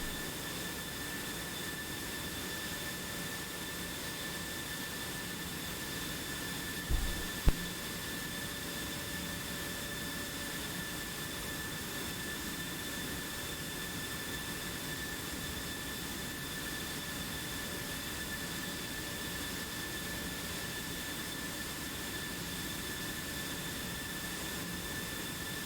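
Steady roar of F-16 and F-15 jet engines in a combat flight video game, a constant broad whoosh with faint tonal whine and one brief click midway, no talk.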